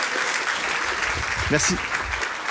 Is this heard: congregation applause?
yes